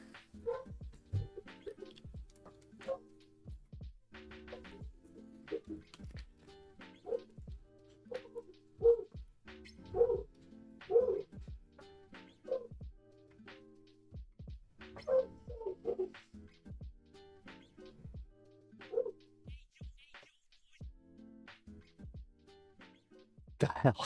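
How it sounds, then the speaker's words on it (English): A dog barks repeatedly in short, sharp bursts, some yips and whimpery notes mixed in, fairly close but modest in level, with birds faintly audible in the quiet gaps. "That dog is being funny."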